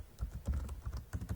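Quick, light keystrokes on a computer keyboard come in short irregular bursts during spreadsheet work, close and fairly quiet.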